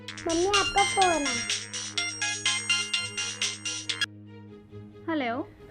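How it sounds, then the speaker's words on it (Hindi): A bright, repeating phone ringtone chimes rhythmically for several seconds, with a voice speaking briefly before and after it. "मम्मी आपका फोन है।"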